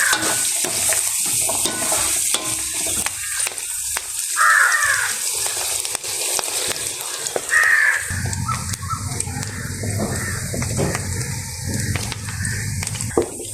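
Onions and fennel seeds sizzle and crackle in a hot pan outdoors while a utensil stirs and scrapes, with crows cawing in the background.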